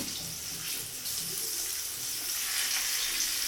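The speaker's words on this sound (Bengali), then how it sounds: "এই আলুগুলোকে ভালো করে একদম লাল করে ভেজে নেব।" Boiled potatoes with a little salt frying in oil until browned, a continuous hissing, watery sizzle at moderate level with no voices.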